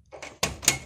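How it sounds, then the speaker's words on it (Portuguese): A house door being pushed shut, with a short scuffle and then two close, firm knocks as it meets the frame, in a simple home with wind outside. "vou fechar aqui a porta, que senão o vento não deixa a gente gravar"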